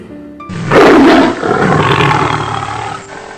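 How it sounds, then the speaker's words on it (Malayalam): Two deep, rumbling tiger roars, the first louder and close, the second following almost immediately from the right, rolling and sustained with no other sounds. "കടുവകൾ."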